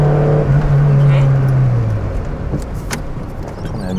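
A Peugeot 205 with freshly replaced engine mounts is held at full throttle climbing a country road, its loud, strained engine drone heard from the cabin, with a voice speaking over it.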